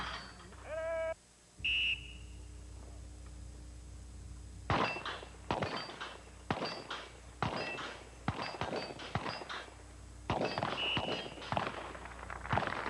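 Pistol shots fired at steel plates from 25 yards in a 1984 Bianchi Cup shooting competition: a rapid string of sharp, loud cracks over several seconds, each followed by a brief metallic ring. No one speaks.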